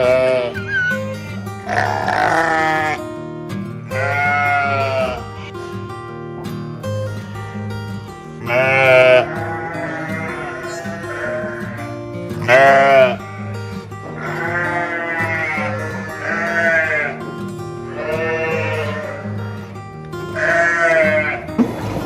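Sheep and young lambs bleat loudly and repeatedly at a petting zoo on a farm, with calls overlapping in a continuous chorus of nearby animals.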